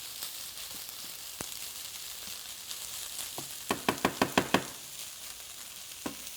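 Shredded hash browns with chopped green pepper and onion sizzling steadily in a pan, with a quick run of sharp spatula knocks and scrapes against the pan partway through.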